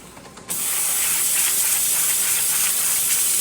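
Steam wand on a Rancilio Epoca espresso machine bursts on after a brief quiet moment and keeps up a loud, steady, even hiss at close range, with no talking.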